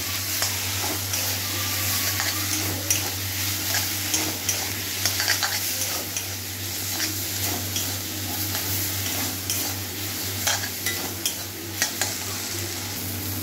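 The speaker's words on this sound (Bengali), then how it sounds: "হলুদ দিয়ে আবারও কষতে হবে" Prawns being sautéed with salt and turmeric in a pan, a steady close sizzle with repeated scraping stirs of a spatula throughout.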